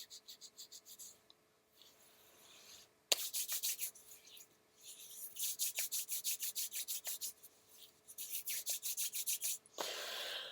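Hands rub anointing oil onto skin in close, soft, rhythmic strokes, repeated in quick bursts with short pauses between them and no one talking.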